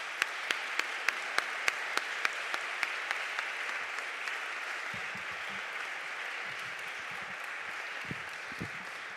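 An audience applauds the participants of a three-minute thesis contest on a university campus, opening with a few loud rhythmic claps that swell into sustained, even applause from the room.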